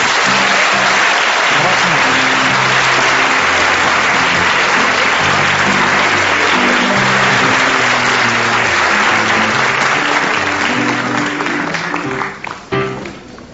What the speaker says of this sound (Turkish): Evet, alkışlayın Nevzat Bey.